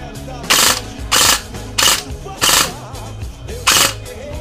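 Loud bursts of rapid mechanical firing from a custom M4 airsoft electric rifle come in short repeated volleys, with a whirring motor hum between them.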